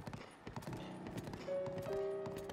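Horse hooves clip-clop steadily in the video game Breath of the Wild, a close, regular trotting rhythm over soft game music.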